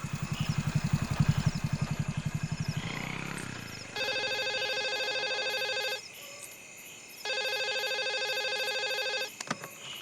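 Telephone ringing in a farm office: two long electronic rings of a few seconds each with a pause between, following a motorcycle engine puttering close by that fades out at the start.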